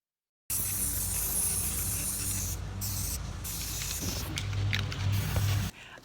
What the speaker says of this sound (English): I've spray painted it white